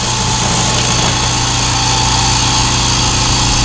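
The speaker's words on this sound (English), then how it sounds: "Can you believe how quiet that air compressor is?" A Rolair JC10 air compressor runs continuously close by, a steady, even motor drone and hum with no pauses and no voices over it.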